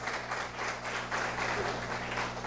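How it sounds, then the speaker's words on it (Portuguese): A church congregation claps in praise during a worship service, a steady wash of many hands across the whole stretch with a low electrical hum beneath. "você dê um aplauso ao Senhor diante desta palavra"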